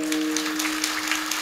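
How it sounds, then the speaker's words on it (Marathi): An audience at a devotional kirtan discourse claps together, a dense continuous burst of applause with a faint sustained tone underneath. "एकदा मोकळे मनानं टाळी वाजवा बरं सगळे."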